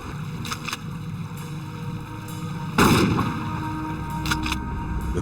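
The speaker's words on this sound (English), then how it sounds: "sink the cooler by firing slugs into it" A single loud gunshot-like blast at the water's surface, a slug fired into a floating cooler, bursts out of steady outdoor background noise with no talk.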